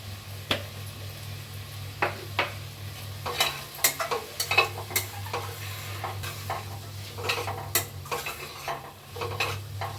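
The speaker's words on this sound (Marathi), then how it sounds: "आता याचं मिठामध्ये थोडंसं परतून घेते." Rice being sautéed in oil and ghee with salt in a pan, a steady sizzle under repeated scraping and clinking of a spoon stirring against the metal, close and clear with no talk.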